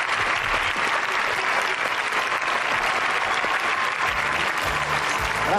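Sustained applause from a studio audience, dense and even, continuing without pause; a faint voice emerges near the end.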